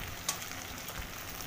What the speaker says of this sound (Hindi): चलाते रहेंगे इनको ताकि सभी अच्छी तरह से फ्राई हो जाए